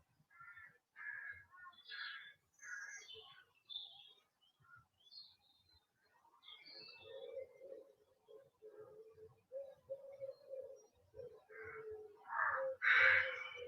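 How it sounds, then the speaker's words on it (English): Outdoor birdsong with scattered chirps and calls, some harsh caw-like notes, varying in loudness with a louder burst near the end. "Listen to the birds."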